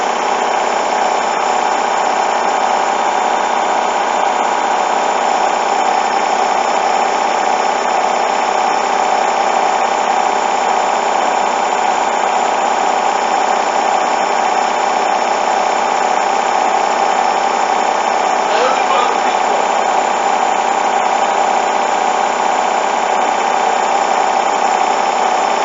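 A Hoover washing machine spins a bedding load on a 40° coloureds wash, producing a loud, unbroken mechanical whirring drone that holds steady throughout.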